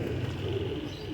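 Teddy pigeons cooing in a crowded loft, soft coos buried under a dense, steady background din.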